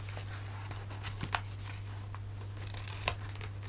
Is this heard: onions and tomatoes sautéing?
no